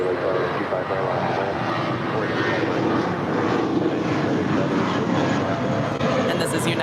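A United A320 airliner departs LAX, with a loud, steady jet engine roar that fills the entire stretch without letup while a voice talks faintly beneath it.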